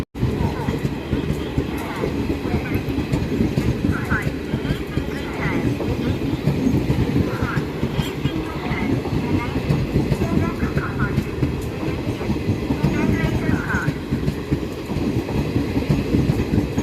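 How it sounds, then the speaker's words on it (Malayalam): The 12201 Mumbai LTT–Kochuveli Garib Rath Express, ICF coaches built in 2007, pulling out of Thrissur station: a steady, loud rumble of wheels with rhythmic clickety-clack heard from onboard for a long stretch. "ഗരീബ് റാത്ത് എക്സ്പ്രസ് കൊച്ചുവേളിനെ ലക്ഷ്യമിട്ട് തൃശ്ശൂർ റെയിൽവേ സ്റ്റേഷനിൽ നിന്ന് ഡിപ്പാർട്ട് ചെയ്തിരിക്കുകയാണ്."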